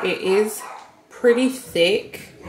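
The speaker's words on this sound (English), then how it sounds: "I'm kind of sorry if y'all can hear my kids in the background and my dog." A dog barks in bursts in the background of a home while someone talks over it nearby.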